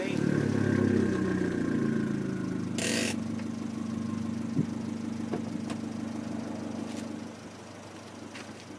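A 2013 Fiat 500 Abarth engine running, a low steady idle with a brief sharp blip near the start of the recording, then settling into a smooth drone that fades slightly toward the end.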